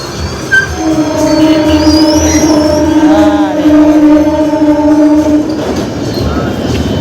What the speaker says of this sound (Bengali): ট্রেন যাচ্ছে এখন গেট পড়েছে ভিড় হয়ে গেছে